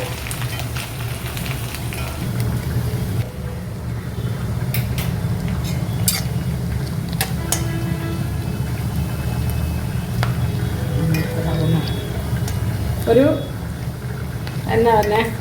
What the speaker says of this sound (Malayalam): ഒരു ലൈറ്റ് ബ്രൗൺ ആവുന്നത് വരെ ഈ കോക്കനട്ട് മൂപ്പിക്കുക